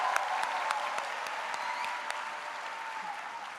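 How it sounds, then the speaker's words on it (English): An audience applauds a gospel choir at a university induction and pinning ceremony, a steady even wash of clapping from many hands that holds at moderate level throughout. "Let's give our a wonderful gospel choir another round of applause,"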